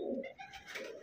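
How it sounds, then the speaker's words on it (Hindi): A red pigeon gives a single soft, low coo, close by, with no talk over it. "एक लाल चिन्ना कबूतर ये दिया दोस्तों"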